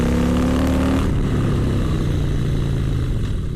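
A 2017 Harley-Davidson Softail Slim S rumbles loudly under applied throttle while riding through turns, a deep engine drone that rises then settles into steady road and wind noise.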